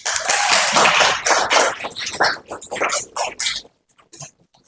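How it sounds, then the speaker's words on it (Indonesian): A university class claps for itself at a lecturer's request. A short burst of lively applause is heard close up, then it thins into a few scattered claps before fading to quiet. "Tepuk tangan dulu untuk kelas ini."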